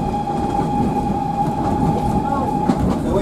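Steam locomotive running on a heritage railway, a steady close rumble of the moving train with a sustained whistle-like tone and faint rail clatter, under a speaking voice.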